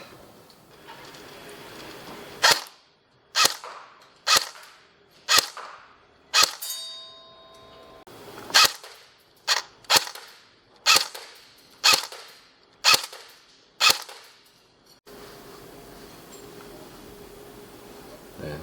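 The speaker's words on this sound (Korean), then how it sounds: "요거 이제 뒤에 또 사격 장면 한번 또 보여드리도록 하겠습니다" Chinese Type 56 AK-47 rifle fired in single shots, about a dozen sharp, loud cracks spaced roughly a second apart, each followed by a short echoing decay, with no talk between them.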